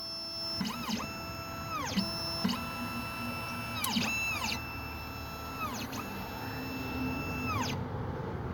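An Xhorse Dolphin key cutting machine fitted with a 2.5mm cutter, a faint high motor whine with repeated swooping pitch drops and rises about every second or two, steady and quiet with no voices.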